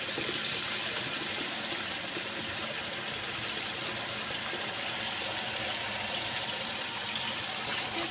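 Steady running tap water with hands being washed beneath it, a continuous close splashing hiss heard alone without pause.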